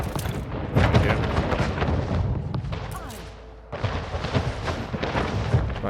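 Cannon fire in a naval battle in Anno 1800, repeated booms and crackling impacts rolling over each other, with a brief lull before the barrage resumes.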